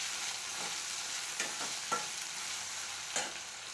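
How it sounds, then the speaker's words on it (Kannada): Brinjal pieces for badanekayi barta sizzle and fry steadily in hot oil, a soft continuous crackle with a few louder pops and stirring scrapes, close and alone with no voices. "ಅದಕ್ಕೆ ನಾನು ಇದನ್ನು ಚೆನ್ನಾಗಿ ಎಣ್ಣೆಯಲ್ಲಿ ಫ್ರೈ ಮಾಡ್ತೇನೆ"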